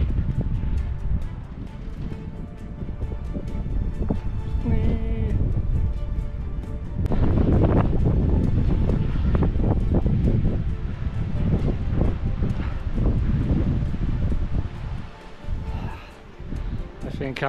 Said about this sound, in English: I'm going into an inferno of wind and snow and cold.